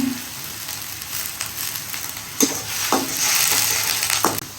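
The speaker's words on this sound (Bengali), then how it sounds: "এখন দিয়ে দেব চিংড়ি মাছ" Shrimp added to a pan of fried onions sizzle steadily up close, broken by a few crisp spatula stirring scrapes that grow busier toward the end; no voices.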